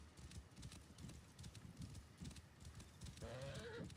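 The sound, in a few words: horse hooves while riding in video game Assassin's Creed Origins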